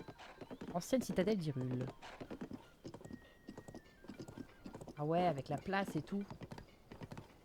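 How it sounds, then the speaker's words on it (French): Horse hooves clip-clop in a quick, steady rhythm on a stone road through the old Hyrule citadel in Zelda: Tears of the Kingdom, close and moderately loud, while someone talks over the hoofbeats. "J'adore le bruit des sabots des chevaux, c'est un truc de fou."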